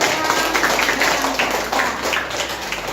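Classroom students applaud after a presentation, a few seconds of steady, moderately loud clapping in a reverberant room with a low background hum.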